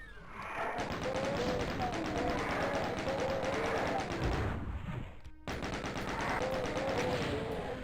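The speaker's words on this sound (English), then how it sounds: "why am I even shooting them?" DOOM II gunfire from shooting enemies on Xbox One comes as rapid, sustained machine-gun-like bursts with a brief gap midway, loud and close, mixed with game effects and a talking voice.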